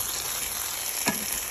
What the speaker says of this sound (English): I'm frying the egg as well.